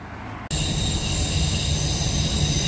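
A tram passes close by, cutting in abruptly as a loud, steady rumble of wheels on rails with a thin, high squeal running over it, and no talking.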